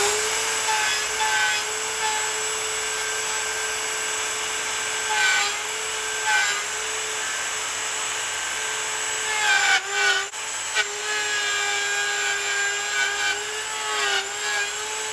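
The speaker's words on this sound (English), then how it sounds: "now we're going to flush it up with the template router." A template router flush-trimming wood gives a steady high-pitched whine throughout, with brief shifts in pitch as the bit cuts, loud and close with no talking.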